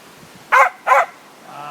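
A dog gives two short, sharp barks in quick succession outdoors, close and clear against a quiet background.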